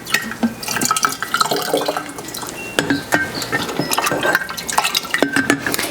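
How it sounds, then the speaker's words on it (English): Tea bags are scooped out of a pot of water in a kitchen, with wet sloshing, dripping and repeated clinks of a utensil against the pot, close and fairly loud. "now we're going to scoop out our tea bags from here"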